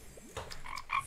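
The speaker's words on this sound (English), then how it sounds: "Frog, come here." A frog in the Roblox game Bee Swarm Simulator croaks in several quick, clear bursts, fairly loud and close, with no speech.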